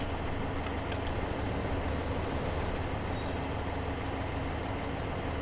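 In Farming Simulator 15, a tractor engine idles at a fuel pump, a steady, dense low drone that holds unchanged and loud throughout with no speech.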